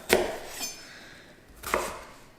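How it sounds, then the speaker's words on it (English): Two sharp, close knife chops cut through a whole onion on a board, about a second and a half apart, with a lighter tap between them in a quiet room. "I've got a whole onion, and actually I'm going to use the whole onion, and that's going into my broth, coarse chop"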